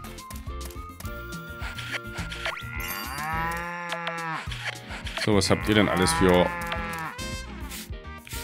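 Cows mooing on a farm in the video game Story of Seasons: Pioneers of Olive Town, several long, drawn-out bovine moos rising and falling over game music, with a person talking briefly near the start.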